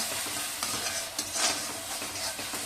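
Chicken kadai rice masala sautéing in oil in a kadai, a steady close sizzle with stirring scrapes throughout, no voices.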